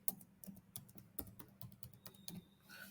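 A password tapped out on a computer keyboard: quick, light keystrokes clicking in an uneven rhythm, close and quiet, with no talking.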